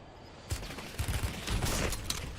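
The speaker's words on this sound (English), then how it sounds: "we're in a sniper war right now" Sniper rifle shots ring out in a Call of Duty match as several sharp cracks in quick succession, moderately faint against a steady background hiss.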